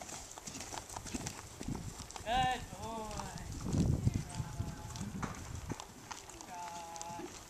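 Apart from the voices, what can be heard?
horse hooves clip-clopping while long lining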